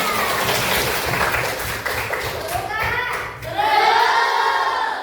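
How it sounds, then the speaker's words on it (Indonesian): An audience in a discussion session breaks into applause, dense clapping with a voice speaking over it, then a brief dip before a louder burst of clapping and voices near the end. "Nah, tepuk tangan."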